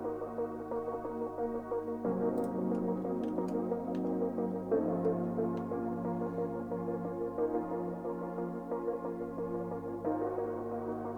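Layered chords from a CS80 synth preset, stabbed and shifting every couple of seconds in a dark, gritty beat, sustained and dense over a low drone, with faint ticking percussion and no voices.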